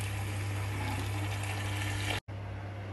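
Water being poured into a pot of browning chicken, a steady rushing splash with a low hum beneath, broken off by a brief cut near the end.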